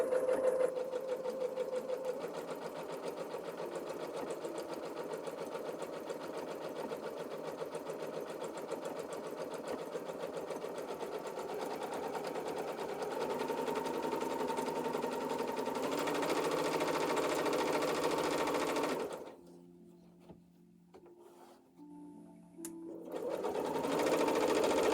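Close, continuous sewing machine stitching on an apron drones for about twenty seconds, stops briefly, then starts again.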